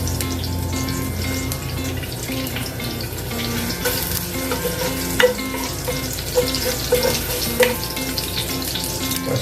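Ginger sautéing in hot oil at the start of a pork adobo gives a steady, close sizzle with occasional stirring knocks under a faint background hum.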